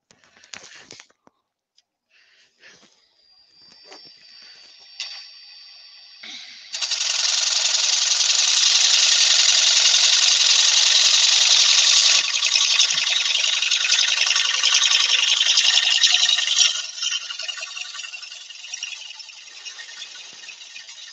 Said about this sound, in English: A freshly sharpened chisel. Let's see if I can get one cut on that.